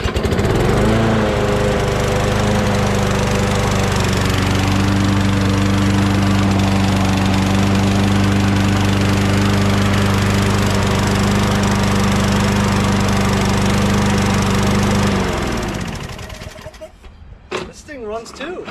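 A Poulan PXT12538 lawn tractor engine, recently revived with carb cleaner and fresh gas, runs loud and steady up close for about fifteen seconds, then cuts out and falls quiet with a few faint clunks at the end.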